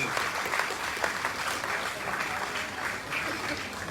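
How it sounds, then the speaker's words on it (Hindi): Audience applause in a crowded hall during a motivational talk, a steady wash of many hands clapping at moderate level, thin and somewhat subdued, continuing evenly for the whole stretch without voices. "तालियां फिर कमजोर है यार तुम्हारी"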